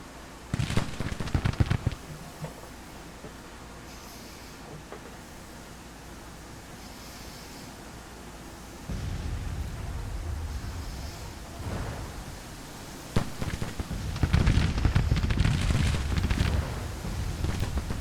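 Booming Civil War artillery and scattered musket fire in the video game Grand Tactician: The Civil War, distant rumbling blasts over a low wash of ambient noise, growing louder and denser near the end.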